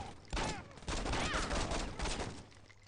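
Video game gunfire in Saints Row: a few close bursts of shots crack out in quick succession, the first short and the next longer and sustained, fading toward the end.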